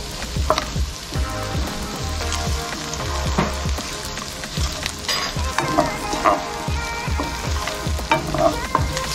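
Four cloves of garlic sautéing in a pan for a Brazilian fish stew, a steady crackling sizzle with repeated scraping and stirring clatter, close and fairly loud, no voices.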